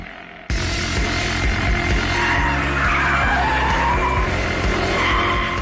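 A BMW M5 F10 in full track mode breaks into a loud, sustained tyre skid, the squeal erupting suddenly and holding steady over a deep engine roar.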